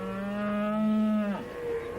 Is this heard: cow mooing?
yes